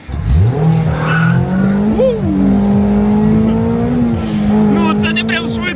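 Rear-wheel-drive car, a BMW M3 or Mazda Miata, spinning its tires, a loud close engine roar with sustained tire squeal and skidding that wavers as grip is lost, with voices talking over it.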